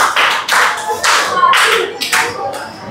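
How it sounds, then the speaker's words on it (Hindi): A group claps for themselves in a classroom, several short bursts of loud, close applause in an uneven rhythm with brief gaps between them. "ताली बजाओ सब अपने लिए।"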